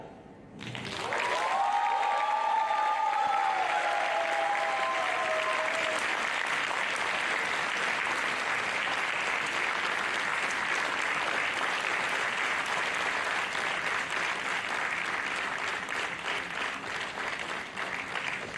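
After a brief whoop, a large audience breaks into loud, sustained applause after a rhythmic percussion recital, a dense wall of clapping that holds steady for many seconds with a few cheers early on.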